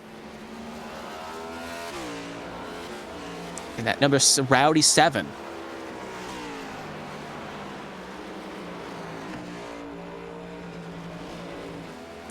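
Ford Mustang race cars of the ARCS A2 Cup Series roar along the Rock N' Roll 200 track under constant broadcast commentary, with a louder burst as a car sweeps close past midway through.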